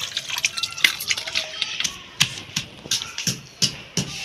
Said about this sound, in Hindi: गोश्त अच्छी तरह धो लेंगे